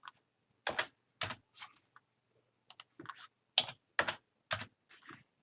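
Computer keyboard typing while coding C# in Unity3D, sounding as short, close bursts of keystrokes separated by brief pauses, with no talking.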